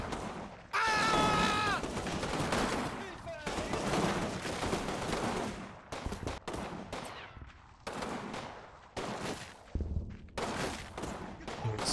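Gunfire in a war video game fires in bursts and single shots with heavy, ragged reports, broken by short gaps, while a voice talks over parts of it.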